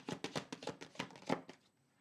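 Tarot cards are shuffled by hand in a quick series of crisp riffling flutters and taps, close and fairly quiet, ending in a brief pause.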